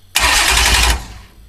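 A Ford Mustang fitted with a new 460 engine cranks on the starter and fires up, a loud, close burst of engine roar that holds for nearly a second before dropping toward a quieter idle.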